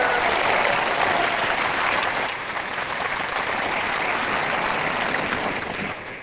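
A large crowd of thousands at a Korean prayer rally applauds to welcome a pastor to the stage, a loud, dense roar of clapping that dips slightly midway and carries on steadily.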